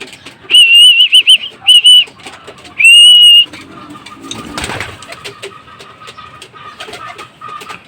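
Pigeons in a loft give clear whistled calls in short bursts, then a softer stretch of coos and rustling with a brief fluttery scuffle partway through, with no talk over them.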